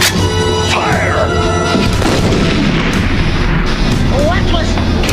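A cannon blast in a Transformers cartoon crossover, a loud booming explosion with a crashing rumble that dominates a dense, continuous mix of animated sound effects and score.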